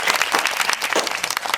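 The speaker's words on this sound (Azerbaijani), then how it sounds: "Bəli, bir dənə gürültülü alqış alalım." Loud, dense applause from a gathered crowd fills the whole stretch, a steady wash of many hands clapping with no voices on top.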